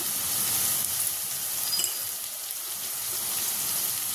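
Masala spices with salt frying in a pan, a steady close sizzle filling the whole stretch with faint stirring scrapes and no talk.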